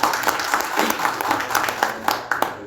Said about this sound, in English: Please give me a huge applause.